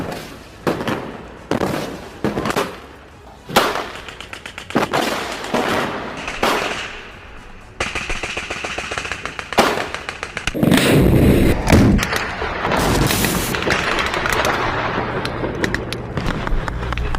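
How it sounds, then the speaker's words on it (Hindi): Gunfire from Hamas fighters in Gaza streets rings out in sharp, separate bangs at first, then runs into dense rapid bursts and a sustained roar of shooting, loud and close, with no talk over it. "गाजा की गलियों में हमास लड़ाके गोलियां बरसाते नजर आ रहे हैं।"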